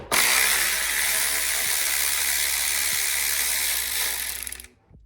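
A ratchet backs out valve cover bolts on a BMW E46 325xi engine, making one loud, close, continuous buzzing whir for about five seconds before cutting off.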